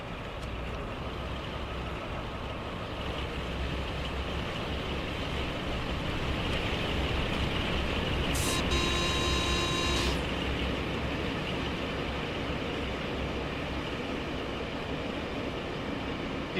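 A train in Train Sim World 6 on the Riviera Line passes by with a steady loud rumbling roar of wheels and engine, a brief high horn-like tone cutting in midway.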